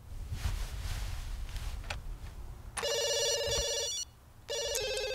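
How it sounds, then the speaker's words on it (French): A telephone in the life-simulation game The Sims 2 rings with a bright electronic trill, two bursts separated by a short gap, loud and clear over faint background game sounds. "Réponds au téléphone."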